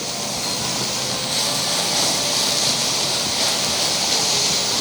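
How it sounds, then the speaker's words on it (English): Frozen corn tipped into a hot pan of caramelized onions and peppers for street-food quesadilla filling, giving a loud, continuous hiss and sizzle with no talking. "So I'm gonna add the corn to it. So this is frozen corn, so it will add a little bit of water to it actually."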